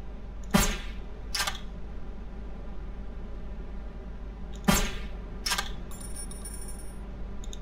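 Gunshots in the video game Start Over, set in a cove of sunken ships, crack out as sharp, loud reports in two pairs with long pauses between them, over a steady low background hum.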